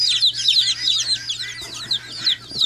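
Loud, rapid, repetitive guinea fowl calls, a harsh rhythmic chatter of several birds close by, with a low hum underneath.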